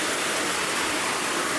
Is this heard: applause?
no